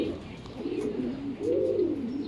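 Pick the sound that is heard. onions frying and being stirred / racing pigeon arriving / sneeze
racing pigeon arriving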